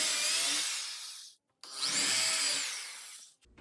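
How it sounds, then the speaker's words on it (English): A drill driving a countersink bit into a wooden board, two loud bursts of about a second and a half each with a brief pause between, the second rising in pitch as the bit bites. "here's my countersink bit. I just want to sink the heads in so that there's no space between the two boards"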